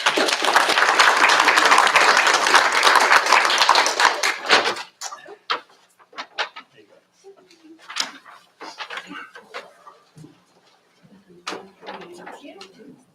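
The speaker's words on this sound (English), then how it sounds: "Thank you, and a round of applause." A school board meeting audience applauds an employee with a loud, dense burst of clapping that stops abruptly after about four seconds, leaving scattered faint taps, shuffles and murmurs.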